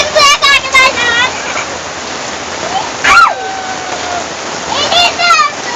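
Water flowing from a park fountain, a steady splashing rush under chirpy children's voices and short bursts of talk, during rain.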